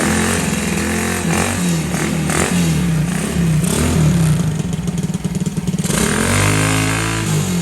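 A Honda CT70 motorcycle with a swapped-in Lifan engine runs close by, its small single-cylinder note clattering at idle and rising in several sharp revs, with a falling-then-rising pitch sweep near the end.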